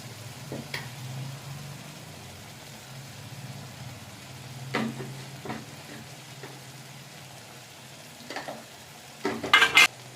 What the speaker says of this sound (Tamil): இப்போ நம்ம கிண்டிக்கலாம் கொஞ்சம்